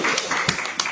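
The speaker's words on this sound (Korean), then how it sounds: "큰 박수 부탁드립니다" Applause at a political party leadership meeting marking the party leader's farewell, a short burst of scattered, fairly close hand claps with a few sharper individual claps standing out.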